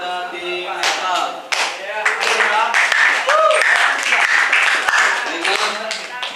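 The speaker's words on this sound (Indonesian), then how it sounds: "Beri aplaus dulu kepada tim Meta" An audience claps for a debate team at a school debate final in Batam, giving a sustained burst of close applause that carries on throughout, with voices speaking over the clapping.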